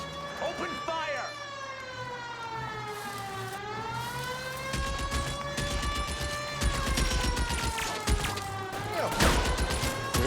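Bursts of gunfire in an L.A. Noire shootout crackle beneath a loud wailing police siren, with people talking over the scene.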